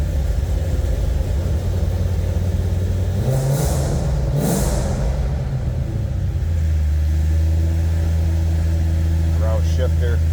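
A 2007 Ford Mustang Roush Stage 1 rumbles through its exhaust with a deep, steady idle that swells briefly as the engine revs, loud and close throughout.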